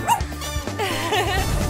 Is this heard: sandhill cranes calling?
no